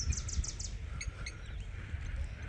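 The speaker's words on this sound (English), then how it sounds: "You guys just can hear the birds." Birds chirp around a lagoon, a few short high tweets and call bursts, faint and somewhat distant over a low, quiet outdoor rumble.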